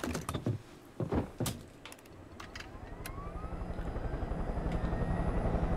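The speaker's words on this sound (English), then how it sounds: "I'm gonna take this chopper. Because I can." A helicopter in the video game Far Cry 5 starts up after a few sharp clicks and thumps, its engine whine rising as the rotor settles into a steady, growing chop that grows louder toward the end.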